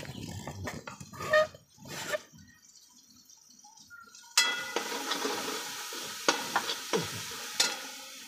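Scraping and stirring sounds at first, then a sudden burst of sizzling as cooked rice hits hot oil tempering, continuing with intermittent crackles and spoon clinks.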